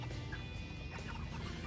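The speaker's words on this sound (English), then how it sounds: "the chicken's so cute. Chirping." Eight-week-old Isa Brown chickens chirp and cluck together, a busy close-up chorus of overlapping short calls with no talk.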